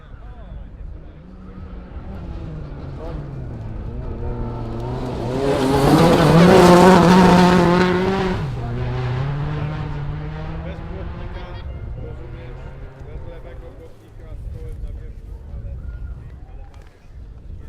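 A rally car on a gravel forest stage at the 2012 100 Acre Wood Rally approaches, swells to a loud passing roar with tire noise, then fades into the distance while a commentator talks throughout.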